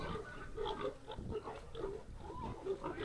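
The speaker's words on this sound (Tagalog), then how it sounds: "Ayun mga alagang baboy at mga pinagbebebenta na nila" Several pigs oink and grunt in repeated bursts, fairly close, over a busy outdoor background murmur at a village fiesta market where pigs are sold.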